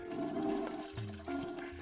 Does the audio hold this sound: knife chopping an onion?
no